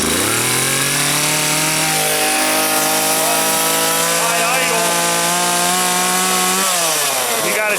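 A Stihl MS170 chainsaw engine runs at high idle on a cold day, a loud, close, steady two-stroke drone that shifts pitch downward near the end as it drops off high idle.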